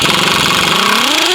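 A pneumatic impact wrench removes frame bolts on a Jeep Wrangler JK during a rock slider install, a loud close rapid hammering rattle with a rising whine as the bolt spins.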